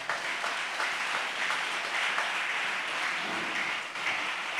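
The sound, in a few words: congregation applauding and cheering the Lord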